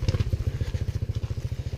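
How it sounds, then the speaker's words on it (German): A rapid, regular motor putter with a steady low rumble, like a small scooter engine running close by without a break, on a volcano trekking route in Bali at night. "Auch hier kommen Roller."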